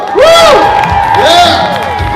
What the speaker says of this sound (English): why don't we give them a round of applause to get them revved up